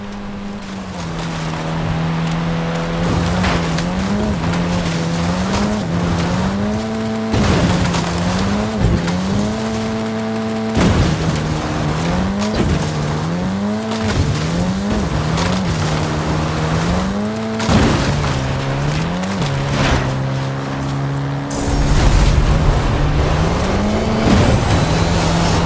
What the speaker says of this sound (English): The Porsche 959 Rally Raid.